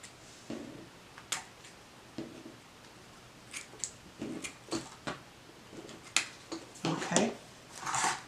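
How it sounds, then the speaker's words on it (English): Scissors snip ribbon tails on a Dollar Tree Christmas star wreath, a series of short, close, crisp cuts spread irregularly across the stretch with quiet pauses between. "so we can come here and cut our tails."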